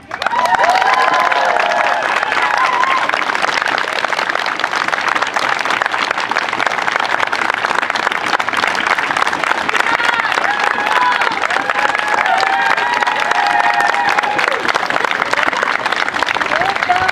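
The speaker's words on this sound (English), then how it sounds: "Another round of applause" Sustained applause from a large crowd at a Stop Asian Hate rally, steady and loud throughout, with scattered cheers and shouts rising above the clapping.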